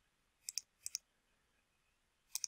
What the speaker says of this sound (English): So I'm going to the page and clicking order form.